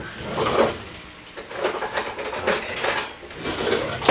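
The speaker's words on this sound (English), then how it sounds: "So now I'm just going to kind of stir this up a little bit." Pork filling for pasteles being stirred in a pot, with a spoon scraping and clunking against the metal in repeated bursts, fairly close and moderately loud, with no talking.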